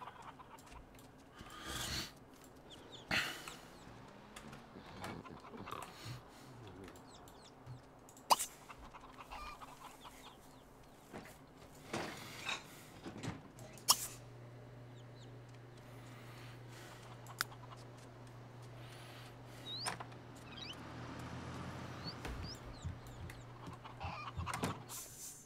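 Bird sounds in The Sims 3 life-simulation game, with scattered clucking calls and short sharp chirps over a quiet background, intermittent rather than continuous, plus occasional clicks and a low hum partway through.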